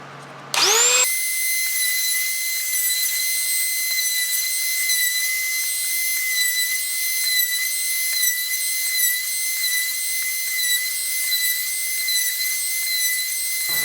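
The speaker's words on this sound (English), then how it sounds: "this little trim router, it's a Ryobi 1 Plus" A Ryobi One+ trim router cuts holes in wood for a DIY essential oil carousel, starting abruptly into a steady, loud, high-pitched whine that runs without a break, with no talking.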